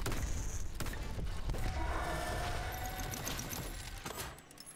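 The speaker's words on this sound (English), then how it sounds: "I like the double explosion, that's good." Dome Keeper mortar attack: a busy stretch of bursting and mechanical rattling with a couple of sharp thumps early on, steady and fairly loud before fading out at the end, no voices.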